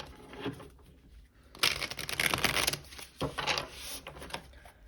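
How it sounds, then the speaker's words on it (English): Tarot cards are riffled and shuffled in a few quick bursts, crisp fluttering rattles separated by short quiet pauses, close and fairly soft. "Okay, I'm going to do one last shuffle."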